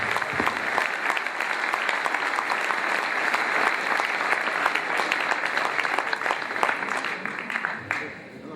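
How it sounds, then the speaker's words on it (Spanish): Audience applause at a large Alcoholics Anonymous gathering welcoming a speaker to the stage: dense, sustained clapping from a big crowd that holds steady for several seconds and then tapers off near the end. "Recibámoslo con un fuerte aplauso"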